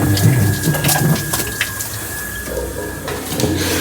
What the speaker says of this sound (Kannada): ನಮ್ಮಮ್ಮ ಅಲ್ಲೆಲ್ಲ ನೀರು ಹಾಕ್ತವ್ರೆ